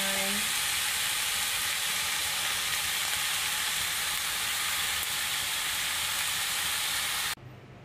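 Fish steaming alongside bitter gourd (paliya) and rice gives a steady, loud broadband hiss and sizzle that continues evenly, then cuts off abruptly near the end.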